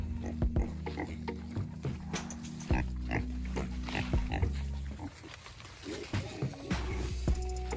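Pigs grunting on a homestead, a run of short, fairly loud grunts and snorts repeating irregularly throughout, with occasional thuds and farmyard movement close by.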